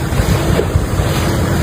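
Stormy ocean waves surge and roar at sea beside a fishing boat, with loud, continuous wind buffeting the microphone throughout the short stretch and no talking.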